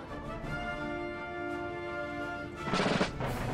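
Musket volleys crackle in Empire Total War as massed line infantry fire on the battlefield, a rough burst of shots swelling near the end over steady background music.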